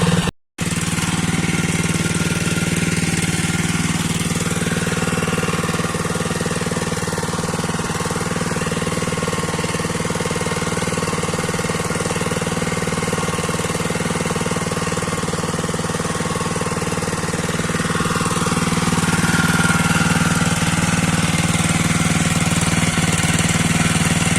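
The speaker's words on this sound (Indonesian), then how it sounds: "mesin Alcon seperti biasa ya" An Alcon engine-powered machine runs steadily and loudly throughout during chili fertilizing, a constant droning hum with a brief dropout near the start and no voices.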